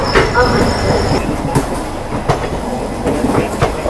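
Prayagraj–Dadri summer special train running on a three-line section, heard from on board: loud steady rumble of wheels on rails with rhythmic clickety-clack and occasional metallic squeal throughout.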